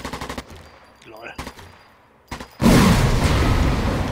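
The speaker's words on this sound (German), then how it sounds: "Brauchte ich erstmal 5 Schuss, bis ich den treffe." Rapid bursts of video game gunfire in Sniper Elite 4, several sharp shots in quick clusters, followed by a loud sustained roar of noise.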